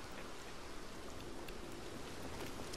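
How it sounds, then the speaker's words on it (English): Steady rain pours in Red Dead Redemption 2, a dense, even hiss of falling water that runs unbroken from start to finish with no voices over it. "Let's get out of this rain."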